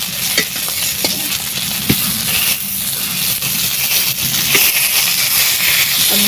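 Fish fries in oil in a village kitchen, a loud, continuous sizzle and crackle with occasional sharp spatters and pops throughout.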